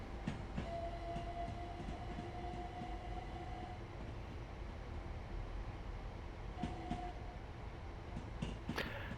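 Gatwick Express train running in Train Sim World 3, a steady, continuous rolling rumble with faint tonal whines and occasional brief clicks and squeals throughout.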